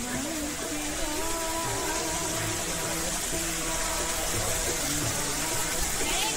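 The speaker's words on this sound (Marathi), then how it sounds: "या चप्पल स्टँडच्या मागच्या बाजूला बघा तर एक लहानसा धबधबा आहे" A small waterfall at Kondeshwar Temple in Badlapur gives a continuous, even rush of falling water, steady throughout, with faint voices and background tones mixed in.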